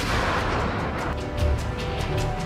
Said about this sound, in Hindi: कहीं गोला बारूद की गूंज,